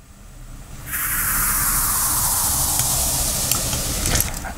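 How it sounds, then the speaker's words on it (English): A burst of white noise whooshes in after a short pause, holding loud and broad before slowly sweeping downward in pitch, fading as it ends. "We've also added a white noise downlifter on top of that,"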